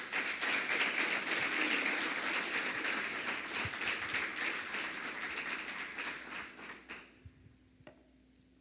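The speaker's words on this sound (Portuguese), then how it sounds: "Aplauda a Jesus." A church congregation claps hard and rhythmically, the dense applause gradually thinning and fading away over several seconds until only a few scattered claps remain.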